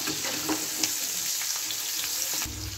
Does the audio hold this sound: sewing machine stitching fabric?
no